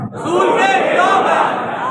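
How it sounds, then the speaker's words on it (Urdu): A large crowd of Muslims at a Shia majlis for Bibi Fatima's martyrdom chants slogans in unison, a loud, close, sustained roar of many voices with no gaps. "سارے کے سارے مسلمان نعرے لگا رہے ہیں"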